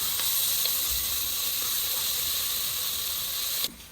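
Onion, ginger, garlic and green chili sauté in a pressure cooker with a steady loud sizzle and hiss that continues throughout, close by, ending with a brief scrape or clatter.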